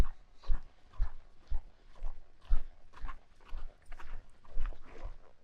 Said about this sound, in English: when he does finally get that lead, you got to let him lope a few circles